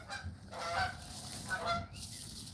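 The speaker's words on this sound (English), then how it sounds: "That was geese going right through the front yard." Geese honk as they pass through a front yard, several overlapping honks in a few seconds, moderately loud and a bit distant, heard through a room.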